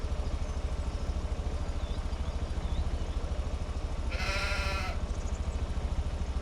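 A single close sheep bleat rises briefly on a farm with a small flock of ewes and a ram, over a steady low rumble and constant background noise.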